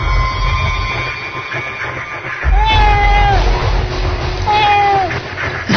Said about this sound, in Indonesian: berisik nih kucing